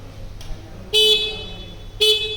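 A vehicle horn tested at an assembly station sounds in two loud, steady blasts of about a second each, separated by a short gap, over a low hum of factory background noise.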